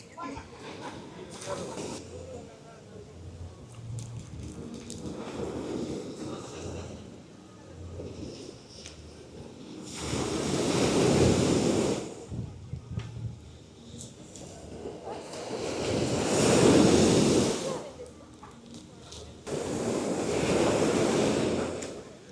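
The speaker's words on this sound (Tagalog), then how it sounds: "Hindi ko alam kung narinig niyo yung alon o hindi." Ocean waves breaking on a beach at El Nido, Palawan, rolling in as repeated surges that swell and recede every few seconds, with wind buffeting the microphone.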